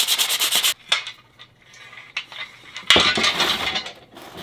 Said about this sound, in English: I'll give it a quick sand.